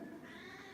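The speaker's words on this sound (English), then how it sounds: "My cat is down here meowing." A Persian cat lets out a short, drawn meow, faint and somewhat muffled, lasting under a second with a low room hum behind it.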